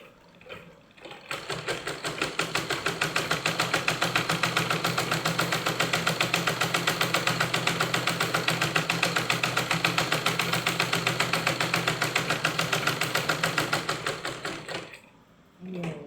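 Sewing machine stitching fabric for doll pajamas, a fast steady mechanical rattle running continuously for about thirteen seconds, close and even, then stopping.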